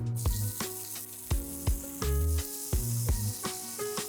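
Potato gnocchi pan-frying in olive oil, a close steady sizzle broken by regular sharp knocks and scrapes, with tonal ringing under it and no talking.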